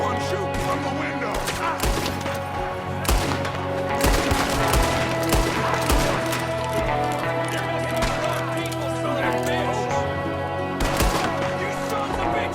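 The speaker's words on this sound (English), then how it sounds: "There's another one shooting from the window." Gunshots crack in Red Dead Redemption 2 as an enemy fires from a window, sharp scattered reports repeating throughout over a steady musical bed, some close and loud, others more distant; a voice speaks briefly.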